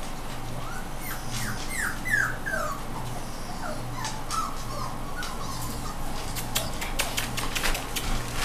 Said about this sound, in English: They're my puppies.